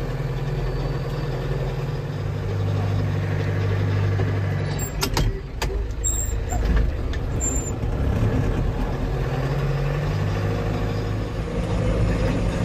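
A farm tractor creeps slowly along during heavy rain from Hurricane Helene, its steady low diesel rumble idling close by, with a brief burst of clanking and creaking midway.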